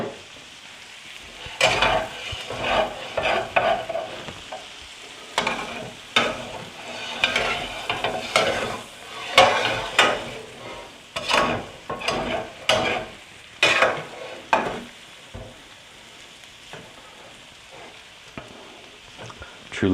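Soft potatoes are stirred with butter in a frying pan for hash browns, with repeated scraping strokes over a steady sizzle and a rhythmic rise and fall of stirring pulses, no voices.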